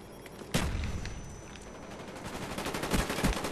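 Rapid automatic gunfire in the shooter game Call of Duty: Black Ops, with a sharp burst near the start followed by quieter rattling shots that build again toward the end.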